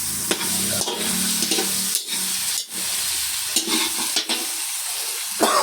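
Sweet potato (kamote) stirred in a cooking pot for a vegetable stew, a close sizzle with scraping, clattering strokes of the spoon at irregular intervals.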